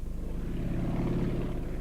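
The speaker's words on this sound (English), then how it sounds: "This is a replica of the 1930s biplane." A replica 1930s WACO biplane's engine drones at a steady, fairly loud level with a throbbing propeller pulse, heard alone without talk.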